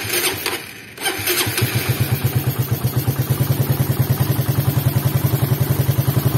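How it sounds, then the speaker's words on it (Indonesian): Suzuki Satria FU motorcycle engine fitted with a PWK 28 carburetor catches after a brief start and settles into a steady, close, loud idle, with even rapid pulses that rise and dip slightly. "Untuk lamsamnya lumayan lah, lumayan stabil walaupun agak naik turun dikit."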